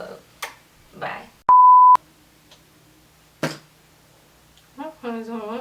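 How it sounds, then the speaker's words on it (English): A phone text message notification sounds once as a loud, steady electronic beep lasting about half a second, set among soft speech and small handling noises in a quiet room. "I don't know who texted me."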